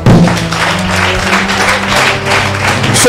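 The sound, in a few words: congregation applauding in church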